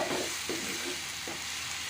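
Spices tossed into onion paste frying in a kadai give a steady, close hiss of oil with soft stirring scrapes, no voices.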